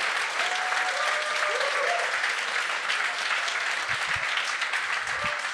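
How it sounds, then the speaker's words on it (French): Audience applause fills the room steadily for several seconds, dense and continuous, with a few faint voices and whistles mixed in, during a Québécois podcast taping honoring a radio figure. "J'aimerais ça qu'on donne une bonne main d'applaudissement à Paul Oud."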